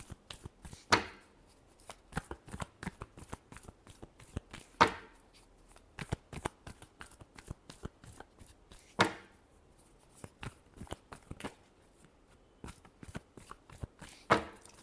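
Tarot cards shuffled by hand during a reading, giving a long series of crisp, close riffles and soft taps at an uneven rhythm, with several sharper snaps and no talking over them.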